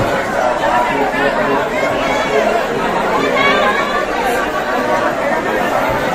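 Dense crowd packed at a train door on a Patna platform during Maha Kumbh 2025 travel, a loud, continuous babble of many overlapping voices close by.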